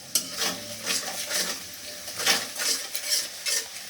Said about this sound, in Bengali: আমি হচ্ছে পেঁয়াজ দিয়ে দিয়েছি, লাল করে ভাজবো একটু।